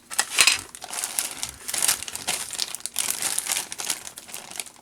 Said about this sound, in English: I did start opening up all the plastic bags.